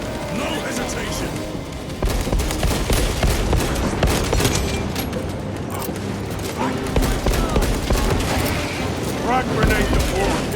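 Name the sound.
gunfire in the video game Space Marine 2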